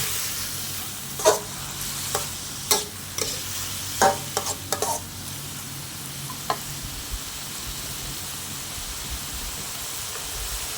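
Vegetables, tofu and chili stir-fry in a pan after a splash of water, giving a continuous steamy sizzle punctuated by several sharp spatula scrapes and clacks early on, then a quieter steady hiss.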